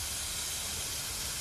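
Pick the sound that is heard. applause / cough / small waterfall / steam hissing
steam hissing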